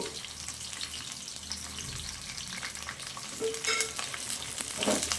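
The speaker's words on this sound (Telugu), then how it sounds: "దీన్ని రోస్ట్ లాగా మంచిగా వేయించుకోవాలా" Tender okra pieces frying in hot oil in a pan, a steady close crackling sizzle throughout with a few sharper bursts of spatter and stirring near the end.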